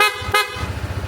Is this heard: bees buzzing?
no